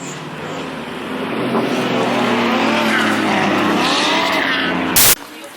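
Drift cars at a Colorado drift event, a 5.0 Coyote Mustang and a 2JZ 240sx, roaring and revving with wavering tire squeal, loud and sustained, ending in a sharp burst.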